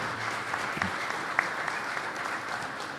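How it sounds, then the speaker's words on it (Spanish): Steady audience applause fills a hall during a panel dialogue on hydrocarbons and energy in Tarija, a dense even patter of many hands at moderate distance, continuing without a break. "Un aplauso para Luis Rodrigo Fuensalida Pantoja."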